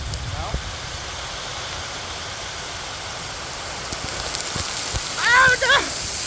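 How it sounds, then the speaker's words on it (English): Rain falls outdoors as a steady, soft hiss that spreads evenly through the whole stretch. Brief voices and a short shout rise over it near the end. "The rain's moving this way."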